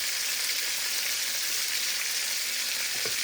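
Fish frying in hot oil in a pan, giving a steady, close, bright sizzle that holds evenly throughout with no talking.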